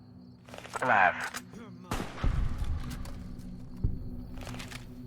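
In Fallout: New Vegas, a voice speaks briefly before a sharp rifle shot lands, followed by a rumbling burst of gunfire and a couple of further softer shots and impacts.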